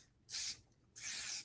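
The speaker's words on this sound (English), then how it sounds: "spraying hairspray right here." Two short, close hissing bursts of hairspray from an aerosol can, separated by a brief pause, alone in a quiet room.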